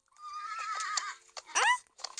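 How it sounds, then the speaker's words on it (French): A horse in the Roblox game 99 Nights neighs in a long, shrill whinny, then gives a second rising whinny and a short final snort, loud and close with no talking. "J'entends le cheval."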